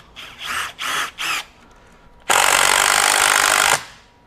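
Four short bursts from a Bosch Freak GDX18V-1860C impact driver driving a screw in B mode for self-tapping screws, followed by one longer sustained hammering run of about one and a half seconds that stops abruptly, close and loud.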